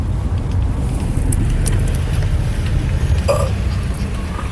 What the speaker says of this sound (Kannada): ನೋಡಿ ಗೈಸ್ ಟ್ರಾಫಿಕ್ ಎಷ್ಟಿದೆ